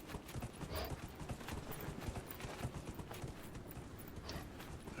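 Hooves of a horse mount in Dragon Age Inquisition clip-clop in a steady trotting rhythm, fairly quiet and continuous with no talking.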